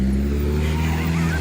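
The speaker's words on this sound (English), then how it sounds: "He was trying to do donuts on this little airport vehicle." A small airport vehicle in a video game spins through donuts, its engine droning steadily with tire squeal and a rising whine, loud and continuous over a brief stretch.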